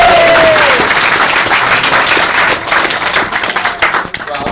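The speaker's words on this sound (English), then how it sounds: "So please, a nice round of applause" Wedding guests applaud the best man during the speeches, loud sustained clapping from a crowd that fades slightly toward the end, with a few voices mixed in.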